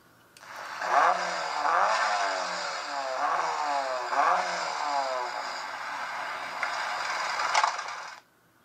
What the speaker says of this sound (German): So, dann können wir testen den Motorsound.